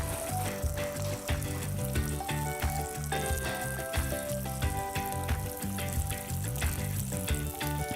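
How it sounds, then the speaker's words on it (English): Mackerel fillets hit shimmering hot oil in a pan over an outdoor wood-fired oven's embers, giving a steady, continuous crackling sizzle that runs throughout beneath background music. "And in they go with a lovely sizzle."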